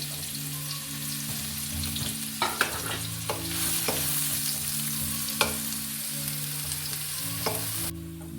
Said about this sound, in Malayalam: ഒരു സാവാള ഞാൻ ചെറുതായിട്ട് അരിഞ്ഞ് വെച്ചേക്കൊണ്ട് വറുത്ത് പോരാണ്